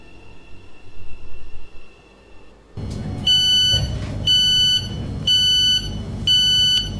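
A five-coach train runs in the SCR video game, starting with a steady hum. A low rumble then sets in under a repeating pattern of bright electronic tones in regular bursts.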